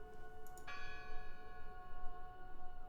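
A church bell tolls in the video game Draugen, one clear strike with a long ringing decay of sustained overtones over a faint ambient background, no talking.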